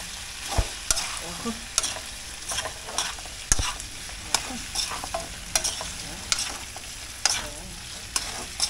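A home cook sautés food in a pan, a spatula scraping and stirring in steady strokes over a constant, close sizzle, with sharp clicks of metal on the pan recurring about once a second.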